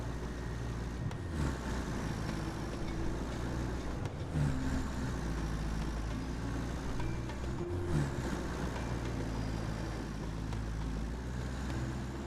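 Truck engine of the Voron in the video game Roadcraft, a steady low droning rumble running continuously at moderate level with slight surges, no talk over it.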